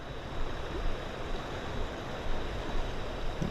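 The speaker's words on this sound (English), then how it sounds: "The sound of the water running." The Chattahoochee River runs with a constant, soft rushing wash close by, unbroken and without voices.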